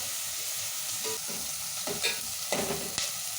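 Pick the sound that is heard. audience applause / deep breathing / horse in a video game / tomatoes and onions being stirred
tomatoes and onions being stirred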